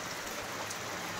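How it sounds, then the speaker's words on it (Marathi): Monsoon rain falls outside a house in Konkan, a brief, steady patter of drops with no talking. "बाहेर बघताय खूप सुंदर असा पाऊस पडतोय"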